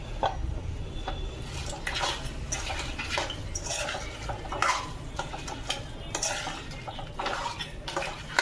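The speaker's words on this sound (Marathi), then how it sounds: "पाच मिनिटं ढवळून घेऊया." Crab masala being stirred in a pan: repeated scraping and clinking strokes of a spoon against the pan in an uneven rhythm, close and moderately loud, with no voices.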